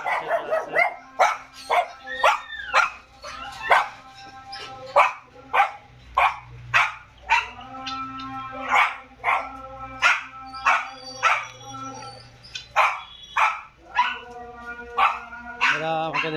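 Dogs on a farm bark repeatedly, a string of sharp, loud yips and barks in an uneven rhythm close by, with a few whimpering notes and a voice talking briefly among them.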